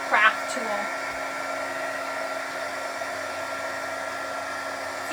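A heat embossing craft tool blows hot air in a continuous, even whirring hiss up close, running steadily without a break after a brief knock at the start.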